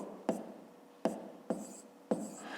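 Pen or chalk writing out a math calculation, four distinct strokes or taps at uneven intervals, each trailing off into a soft scratch, quiet and close with no voices.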